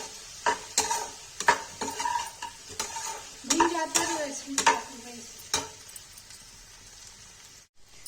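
Okra with vegetable masala stirred and fried in a pan for a crispy Kashmiri bhindi, with repeated scraping strokes of a spoon over a steady soft sizzle before it fades to near silence.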